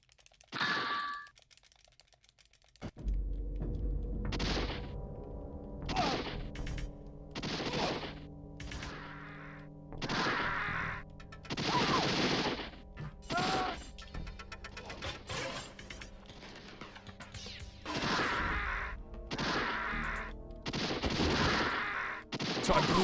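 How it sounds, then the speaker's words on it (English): Gunfire and a grenade blast in the 3DO video game Demolition Man, with repeated loud bursts of shots at an irregular rhythm, set close against a steady game background. "So I blew up the grenade in his hand."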